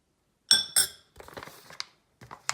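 A metal tablespoon clinks sharply twice against a glass container while an ingredient goes in, followed by softer clatter and light handling sounds, close and fairly quiet.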